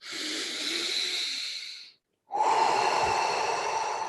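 A deep guided breath in and out, two long airy breaths split by a brief silent pause, close and steady with no talking.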